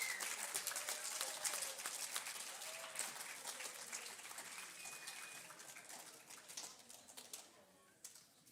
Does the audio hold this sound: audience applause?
yes